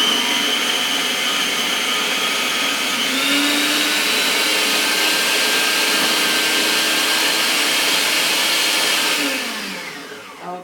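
A handheld stick blender whirs steadily while blending basil into pesto, a loud continuous motor drone that holds its pitch for about nine seconds, rises slightly near the three-second mark, then winds down at the end.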